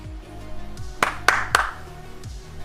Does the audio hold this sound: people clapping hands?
yes